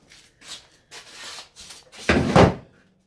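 A car door is worked off an Infiniti G37 sedan with short rubbing and scraping bursts, then a louder clunking thud as the door comes free.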